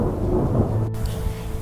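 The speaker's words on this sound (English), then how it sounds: "is the sound of thunder" Deep thunder rumbling low and steady with a faint rain-like wash, briefly cut by a sharp gap before the rumble resumes.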